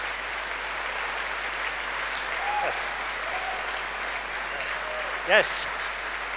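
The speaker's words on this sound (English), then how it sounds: "can we have a warm round of applause" Audience applause at an evening keynote programme as a professor is invited on stage: a steady, moderate wash of many hands clapping throughout, with a brief voice speaking near the end.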